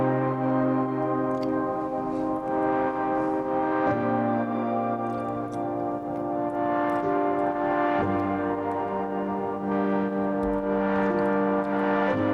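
Piano plugins layered with Diva synthesizer chords in an Ableton electronica track, playing full sustained chords that change roughly every four seconds at a steady level, with no one talking.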